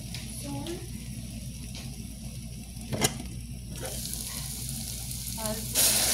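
Onions fry in a pan with a steady, close sizzle and occasional stirring clatter, while a voice speaks quietly in the background.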